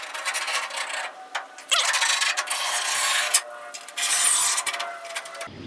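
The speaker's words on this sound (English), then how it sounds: "I should be able to just hold this and take my scribe" A metal scribe scratches and drags across a sheet metal panel being fitted on a Firebird, giving several raspy, close scraping strokes with brief pauses between them.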